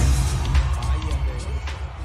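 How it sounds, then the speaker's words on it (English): A concert crowd at the LA Coliseum goes wild, a dense, loud roar of cheering and whoops over a heavy low rumble, sustained for the whole stretch. "he's watching as the crowd at the LA Coliseum go off"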